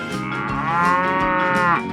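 A cow in a 3D animal video game gives a loud, drawn-out moo lasting about two seconds, close and clear with no talking over it.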